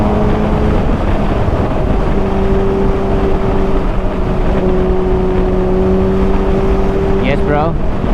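Steady droning engine of a 200 horsepower motorcycle under heavy wind buffeting, holding a constant tone before a brief rising rev near the end.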